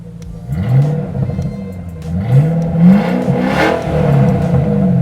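A car's exhaust with remote-controlled cutouts open on a MagnaFlow 2.5-inch system revs repeatedly, rising and falling in throaty surges that sound close and loud throughout, with no voices over it.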